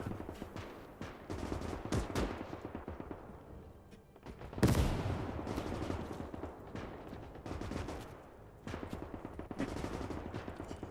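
Battle gunfire in the World War II game Call to Arms Gates of Hell, with rapid machine-gun bursts, rifle cracks and a heavy blast near the middle, dense and continuous throughout.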